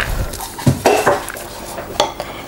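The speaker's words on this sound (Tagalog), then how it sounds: "So, dito sa ating bowl, ilagay na natin yung minced chicken." Minced chicken with celery and carrots tumbles into a bowl, bringing a few close clinks and scrapes of utensil against bowl and soft wet thuds in an irregular pattern.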